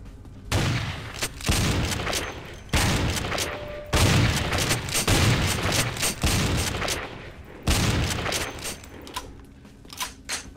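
A SPAS shotgun in Vampire the Masquerade Bloodlines fires a series of heavy booming blasts at irregular intervals, each one loud and close with a short decay, and no talking.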